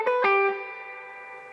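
Two quick plucked guitar notes run through a bright, fizzy spring reverb pedal, the struck attacks followed by a shimmering metallic tail that rings on and slowly fades, with nothing else heard.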